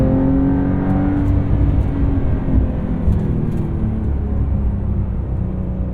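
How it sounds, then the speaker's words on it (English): A 2023 Porsche 911 Carrera T engine drones steadily with a thin high-pitched whir riding above the low rumble, heard from inside the car. "That little high-pitched whirring sound is interesting."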